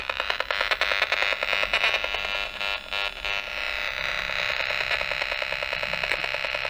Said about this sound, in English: this is the sound of the television